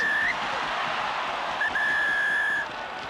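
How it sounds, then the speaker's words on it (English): A rugby referee's whistle during an All Blacks versus Ireland match in 2012 sounds in two bursts, a short blast and then a longer sustained tone, loud over steady stadium crowd noise. "So they haven't heard the whistle, these guys."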